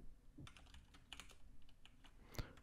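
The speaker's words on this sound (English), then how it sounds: "I'll just be typing some text in here." Typing on a computer keyboard while entering text in Adobe InDesign, giving faint, close, irregular clicks and taps in quick bursts against quiet background hiss, with no talk.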